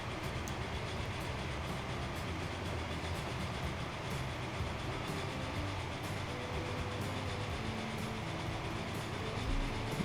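A train rolls steadily along the tracks in the Transport Fever video game on a European map, a constant rumbling drone with faint rhythmic clicks, heard alone at a moderate, even level.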